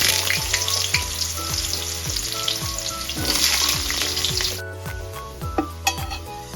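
Squash and potato pieces fry in hot oil with fenugreek seeds, cumin and a split green chilli, giving a loud continuous sizzle with regular spatula scrapes and pan knocks, easing off toward the end.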